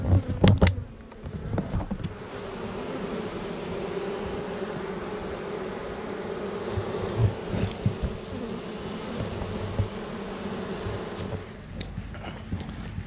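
Honeybees hum steadily at a beehive entrance as foragers bring in pollen, a dense continuous buzz close by with occasional louder passes of individual bees near the start.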